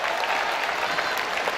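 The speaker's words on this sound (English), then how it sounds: "Give yourselves a round of applause for being alive today." Conference audience clapping in a short, dense, even burst of applause from many hands, fairly loud and unbroken, with no talking over it.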